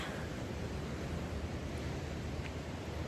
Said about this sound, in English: So I'm trying to speak loudly over the waves